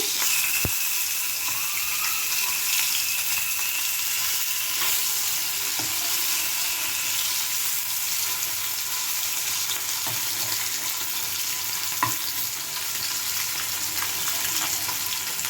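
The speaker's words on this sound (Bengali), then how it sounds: "মাছগুলো সুন্দর করে ফ্রাই হয়ে গেছে" Fish pieces frying in oil in a pan for a Bengali-style fish curry, a constant close sizzle with a few faint clicks and taps throughout.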